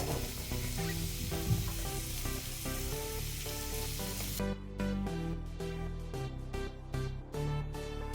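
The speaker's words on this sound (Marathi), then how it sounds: "स्लाइस केलेला कांदा टाकून देऊया" Sliced onion dropped into a little hot oil in a kadhai gives a broad, steady sizzle under loud background music, which carries on alone once the hiss fades partway through.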